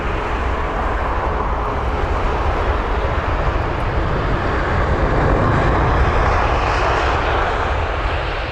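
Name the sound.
Emirates Airbus A380 airliner landing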